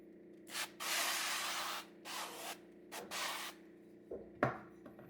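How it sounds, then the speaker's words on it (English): Several hissing bursts from a spray bottle of virgin olive oil onto steak kebabs for an air fryer, some long and some short, with pauses between and a couple of soft clinks at the end. "I like to spray it with some virgin olive oil."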